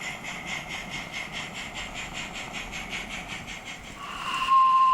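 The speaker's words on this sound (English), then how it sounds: "the goods departs to meander its way onwards towards Peckforton Station." A steam goods train pulls away on a miniature light railway with rhythmic chuffing and rolling rumble, moderately distant and steady, ending in a sharp high whistle.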